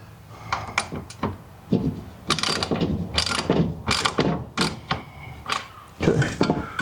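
Ratchet wrench clicking in short bursts of rapid ratcheting as a bolt is tightened on a 3D-printed plastic oil cooler duct with a rivet nut on a 1978 Porsche 911SC, close and fairly loud with brief pauses between strokes.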